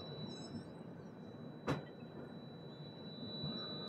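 Inside the Toofan Duronto express on the Yesvantpur to Delhi Sarai Rohilla run, a quiet, steady rumble of the moving train continues, broken by one sharp clunk midway.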